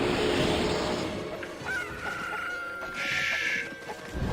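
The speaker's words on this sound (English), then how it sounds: "No one likes noisy chickens." Chickens in the video game Okami cluck and squawk noisily and close by, a busy flurry of fowl calls over game background sound.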